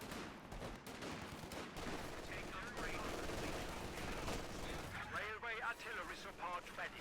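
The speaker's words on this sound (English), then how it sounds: "The MG is getting grenaded." A Company of Heroes 2 battle with machine gun fire and grenade blasts churning in a dense, continuous barrage, while a commentator talks over the action.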